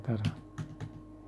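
A few light taps on a computer keyboard while a value is entered in SketchUp, soft and close, following a brief burst of quiet speech.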